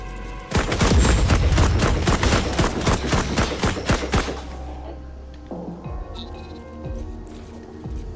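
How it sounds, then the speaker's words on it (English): Rapid gunfire in a Mars-themed shooter video game, a loud burst of quick repeated shots for several seconds that then fades into quieter ambient game sounds and scattered effects. "he jumped around the corner and shot at me"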